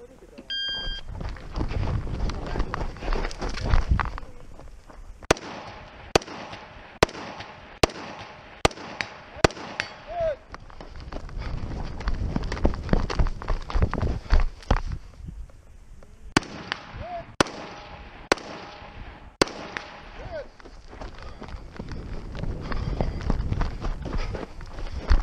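Rifle gunshots on a rifle-only shooting stage with a single target at about 80 or 90 yards: two series of sharp, loud cracks in quick succession with pauses between, plus background movement and brief talk.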